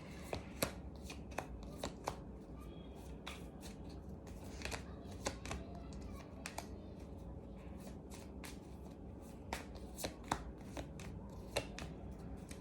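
Tarot cards being shuffled by hand, a run of quick soft riffling snaps and slaps at close range, fairly quiet and unaccompanied by talk.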